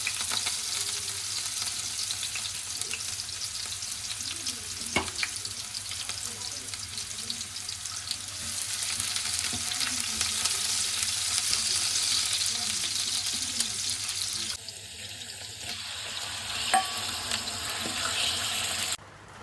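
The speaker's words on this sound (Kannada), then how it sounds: "ಒಂದು ಹಾಫ್ ಆನಿಯನ್ನು, ಅದನ್ನು ಹಾಕಿ ಫ್ರೈ ಮಾಡ್ಕೊತಾ ಇದ್ದೀನಿ" Half an onion sizzles in oil in a pan for chicken liver pepper fry, a steady close hiss throughout with occasional stirring clinks and a brief tap-water rush near the end.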